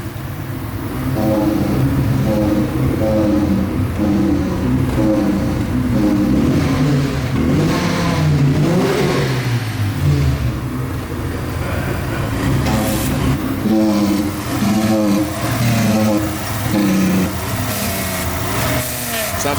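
A Mazda RX-7 FD rotary engine, heard from the exhaust side, idles roughly and then revs in several rising and falling bursts, loud and close, with people talking over it.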